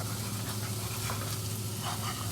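Garlic sizzles in a pan for shrimp scampi, a steady, close frying hiss with light crackle that holds evenly throughout, with no voices over it.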